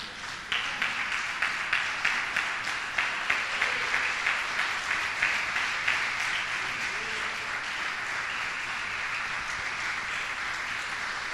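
Church congregation applauding during a service, a rhythmic clapping in unison that builds into steady applause, moderately close with a few faint voices underneath.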